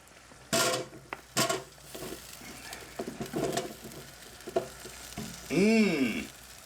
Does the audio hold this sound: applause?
no